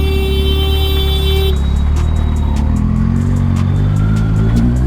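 A motorcycle running on XP100 premium petrol idles nearby, producing a loud, constant engine hum with steady low harmonics and faint ticking on top, sounding alone without talk.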